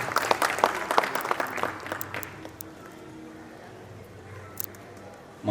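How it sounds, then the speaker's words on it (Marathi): A housing society audience in Navi Mumbai claps to welcome a guest speaker, with close, crisp clapping that is strongest at first, then dies away into quiet room murmur. "सर्वांनी टाळ्या वाजवून त्यांचं स्वागत करायचं आहे."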